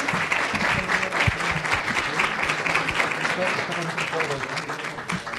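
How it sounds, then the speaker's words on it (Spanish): Steady applause from a conference audience for a panel of speakers, a dense continuous patter of many hands that holds at an even level throughout. "un aplauso primero."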